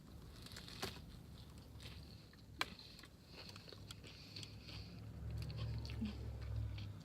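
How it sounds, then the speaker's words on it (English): Close-up, quiet crunching and chewing of a Subway sandwich stuffed with chips, with irregular crisp bites and soft squishy mastication continuing over several seconds. "if you can hear the crunch, that means my chips did their job"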